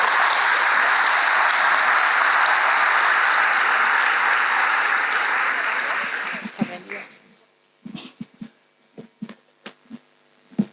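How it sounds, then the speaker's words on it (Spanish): A crowd applauds steadily for about six seconds, then the clapping thins out into a few scattered, isolated claps. "Fuerte el aplauso para ella."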